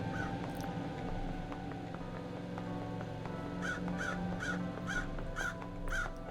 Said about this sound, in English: Shut up, you crows.